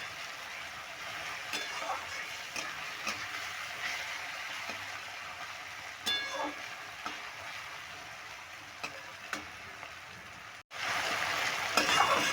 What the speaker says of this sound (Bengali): আরেকটু আমি ভেজে নেবো